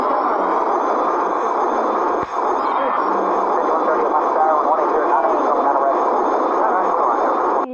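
Airplane engine in a flight video game during landing, a steady loud mechanical drone with broadband roar running continuously throughout, a brief dip near the middle.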